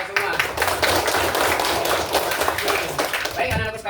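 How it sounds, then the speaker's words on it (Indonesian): A classroom group of schoolchildren bursting into dense, sustained applause, many hands clapping rapidly and loudly together for several seconds. "Tepuk tangan buat kita semua."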